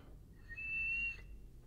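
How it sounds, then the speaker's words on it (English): A thin, soft whistle is blown through a bass trombone mouthpiece with a very small, gentle lip aperture, rising into one steady tone of about a second, quiet and close, with no talk. "you hear that whistling sound"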